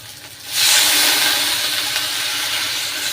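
Water poured into a pan of fried masala for a spicy puti fish curry, seasoned with salt, turmeric and Kashmiri chilli powder, sets off a sudden loud sizzling hiss that holds steady and then slowly fades.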